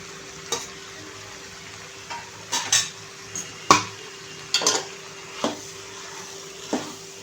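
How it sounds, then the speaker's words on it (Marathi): A ground paste of onion, coconut, ginger, garlic and coriander being sautéed with vegetables for bhogi bhaji over low-to-medium flame, with scattered loud spoon scrapes and clanks on the pot over a faint sizzle, close, no talking. "आता हे वाटण पण आपण या भाज्यांसोबत व्यवस्थित परतून घ्यायचं आहे"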